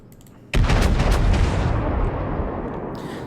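A heavy naval gun salvo fires from the French battleship Dunkerque in World of Warships, a sudden loud boom after a quiet start that rolls into a long, rumbling decay.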